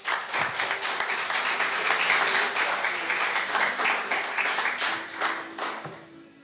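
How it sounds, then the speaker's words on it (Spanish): Congregation applauding during a Sunday Lord's Supper church service, a steady wash of many hands clapping with a few cheers mixed in, sustained throughout and fading slightly at the end. "Dale un fuerte aplauso al Señor."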